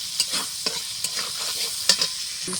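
Goat fat fries with five kinds of mixed vegetables in a pan, giving a steady close sizzle broken by several sharp stirring scrapes and clinks.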